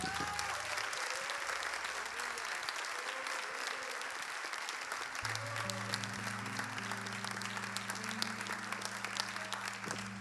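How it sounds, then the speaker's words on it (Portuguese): A church congregation applauding steadily for several seconds, dense clapping throughout with a low sustained tone underneath. "Vamos dar um salve de palmas para Ele"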